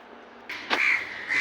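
Crows caw where birds are being fed: two or three harsh calls close together, the first a short burst and the next drawn out, with no other sound.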